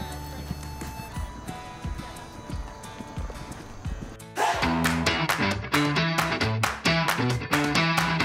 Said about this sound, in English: you can see the horses training